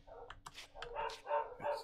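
Dogs bark in a short run of yips and woofs, a few quick barks spaced unevenly, moderately close, mixed with some whimpering and heard over a faint hum, with a voice partly underneath.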